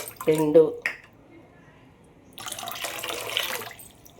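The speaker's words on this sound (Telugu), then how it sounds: "మొత్తం 6 కప్పుల నీళ్ళు దీంట్లో పోసేసుకుందాం." Water is poured into a cooking pot for katte pongal, six cups in all, a steady splashing gush in the second half after a brief spoken phrase and a quiet pause.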